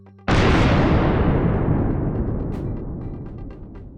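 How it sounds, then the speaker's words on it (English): A single loud explosion bursts out of a basement apartment, a sudden sharp blast followed by a long, slowly fading roar and rumble. "A loud explosion comes from the basement apartment."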